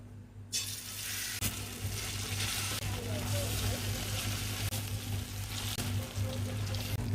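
Fish frying in hot oil in a pan: a constant loud sizzle that begins abruptly after a brief quiet start and continues steadily, with a low electrical hum beneath it and a few faint clicks.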